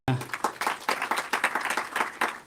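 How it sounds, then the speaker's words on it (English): An audience at a summit applauds in a dense burst of clapping, loud and close, continuing for a couple of seconds with a voice briefly audible at the start. "another round of applause for Dr. Anna."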